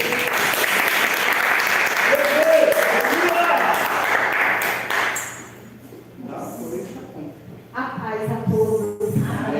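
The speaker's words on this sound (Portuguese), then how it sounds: "Dá salve de palmas para ele." Applause from a church congregation fills the first five seconds, loud and dense, then fades out and gives way to a voice speaking.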